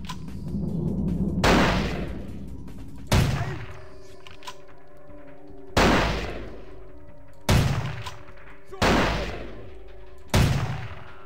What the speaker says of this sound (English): That sniper rifle fucking hurts.